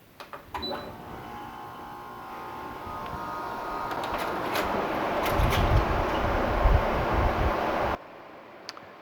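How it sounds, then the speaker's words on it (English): A Haier 5,000 BTU air conditioner powered by a DIY solar generator clicks on and builds into a steady whirring hum with fan rush and compressor rumble, then stops abruptly. "This is a Hair brand air conditioner."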